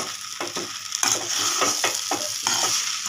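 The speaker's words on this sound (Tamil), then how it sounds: "இந்த மாதிரி கிளறி விட்டு" Mutton masala fried rice stirred in a pan gives a loud, close sizzle with a regular series of scraping, tossing strokes, roughly two every second.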